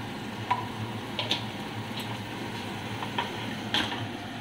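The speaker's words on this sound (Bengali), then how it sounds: "এবার মশলাটাকে কষবো" Spice masala with turmeric and Kashmiri chili powder sizzles softly in oil in a pan, a steady close fry with a few faint clicks of a spoon against the pan.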